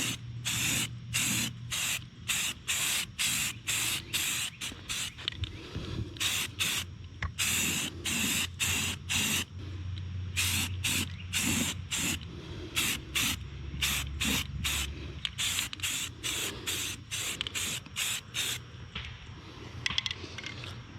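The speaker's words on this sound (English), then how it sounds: "we're just gonna start hitting it with primer" Repeated short bursts of aerosol spray primer hiss across the body of a lawn mower, each blast a second or less with brief gaps, steady and close, no talking.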